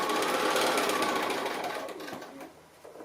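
A sewing machine runs a fast, continuous stitching whir through fabric while sewing a star-shaped Christmas coaster, loud and close, then slows and tapers off near the end.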